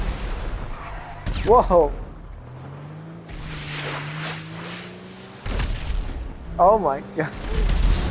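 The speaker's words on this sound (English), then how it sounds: "the missiles are shooting a little too low to the ground" Missiles fired from a Deluxo flying car explode in a video game, with two sharp booming blasts spaced several seconds apart over a low engine drone, while a person exclaims in surprise between them.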